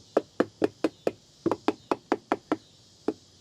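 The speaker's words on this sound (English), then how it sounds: "Now I'm going to nail the bottom in." Nails are hammered into the wooden bottom of a bluebird house, a dozen sharp, close knocks in quick uneven bursts with a short pause before the last strike.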